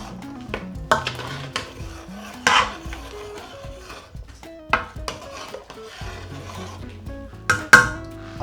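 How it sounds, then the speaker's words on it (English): A cook mixes a teaspoon of dry cumin powder into a lamb curry in a pot, giving scattered scraping and clinking knocks of a utensil against the pot with soft rubbing between, close and intermittent, no voices. "Give that a really nice mix in there."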